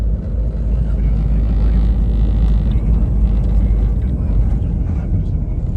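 Constant loud road rumble and rattling vibration noise inside a Toyota Innova Crysta cabin without sound damping, steady broadband roar throughout with no break.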